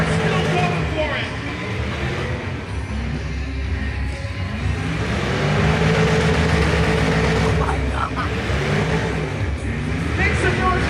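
Demolition derby cars at the Puyallup Spring Fair, Washington, keep their engines running and revving in a steady loud roar, with an announcer and crowd voices over it.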